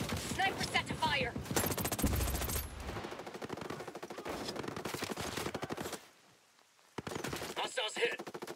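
Gunfire in the video game Ghost Recon Breakpoint rattles in rapid bursts and single cracks, loud and dense, broken by a brief quiet gap before more shots resume.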